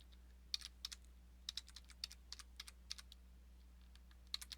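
Typing on a computer keyboard while entering an Excel formula, a brisk run of crisp key clicks in uneven bursts, close and distinct over a low steady electrical hum, with no talk.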